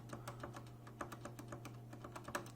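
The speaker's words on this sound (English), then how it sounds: "how does the switch sound? It's a linear switch, not a tactile switch." Rapid, uneven keystrokes on a Logitech G Pro X mechanical keyboard with smooth linear GX Red switches, quiet and close, with a low steady hum underneath.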